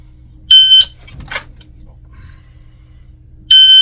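A shot timer set for three seconds gives two loud, shrill electronic beeps, each lasting about a third of a second and three seconds apart, with a brief rustle and snap between them during a concealed-carry draw.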